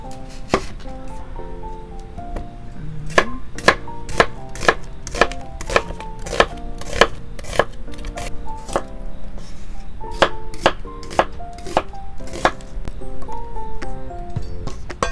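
A knife chops onion and vegetables on a cutting board in a string of sharp, close knocks, sometimes quick runs and sometimes single strikes, over a quiet background with no speech.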